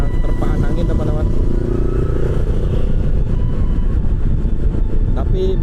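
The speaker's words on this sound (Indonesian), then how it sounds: "Angin lumayan kencang di tol ini, berasa motornya lumayan kena terpaan angin" A motorcycle cruises along a windy toll road near mangroves in Bali, with a steady loud engine drone and heavy wind buffeting throughout, and a rider talks over it.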